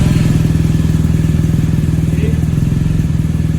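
A motorcycle engine with a faulty throttle cable runs at a steady, pulsing idle, loud and close, while someone talks over it.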